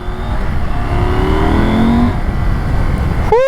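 A Husqvarna Norden 901 motorcycle accelerating with strong torque, the engine note rising steadily in pitch and holding loud and close, then a quick gear change or rev near the end.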